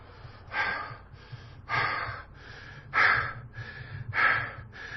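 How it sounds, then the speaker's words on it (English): Heavy, labored breathing from a sweating man, about five loud, rhythmic gasping breaths in close succession with short pauses between, heard alone without talk. "I'm sweating like a rabbit. I'm breathing hard."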